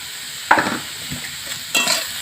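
Grated radish with salt and turmeric fries in a pan under a soft, continuous sizzle, broken by two distinct scraping stirs of a utensil against the pan.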